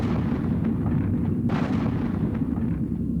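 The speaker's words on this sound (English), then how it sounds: "105mm howitzer." A 105mm howitzer fires from a gunship over Vietnam: a dull heavy boom rises out of a constant deep rumble, with fainter thuds around it.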